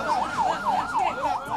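Ambulance siren wailing in a fast, repeating up-and-down sweep, loud and fairly close, continuous throughout with no talking.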